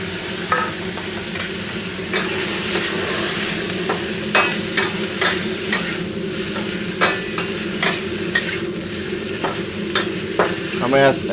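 Noodles stir-fried in a very hot wok for a Thai rard nah dish give off a steady loud sizzle, with repeated sharp scrapes and clanks of the spatula against the metal at an irregular rhythm. No one speaks.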